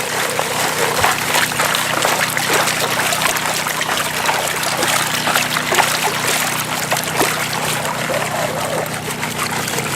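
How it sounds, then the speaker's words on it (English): Water washes gravel in a gold pan, making a continuous close trickling and sloshing with fine gritty rattles of small stones, steady and fairly loud throughout. "shake, and then let the water wash it right out"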